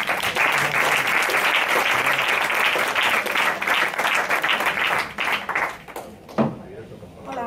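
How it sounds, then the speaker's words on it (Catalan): Audience applause at a round-table presentation, a sustained burst of clapping from a crowd that holds steady for several seconds before thinning out and fading near the end. "demano com sempre un aplaudiment per la Noemi."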